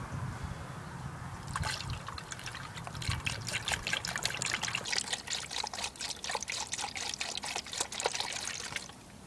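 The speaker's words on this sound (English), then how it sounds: "I'm filling it back up with concentrated antifreeze" Concentrated antifreeze glugs and trickles steadily into a Jaguar X-Type's plastic coolant reservoir, with bubbly gurgling pulses that grow busier partway through, close and fairly loud.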